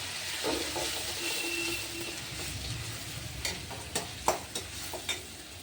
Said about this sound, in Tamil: இஞ்சி, பூண்டு, வெங்காயம், அதையும் நம்ம சேர்த்துடலாம். சேர்த்துட்டு ஒரு மிக்ஸ் பண்ணிடலாம்.